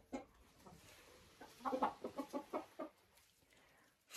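Hens in a poultry enclosure cluck in a quick run of short, bright calls, close and moderately loud, with quieter scattered clucks before and after.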